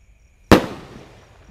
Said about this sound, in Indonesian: Sudah menyala ini pelontar 1 tor Roman candle.